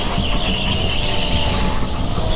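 Go-kart tires squeal steadily as the kart slides through a countersteered drift, a continuous high screech over the engine's buzzing drone.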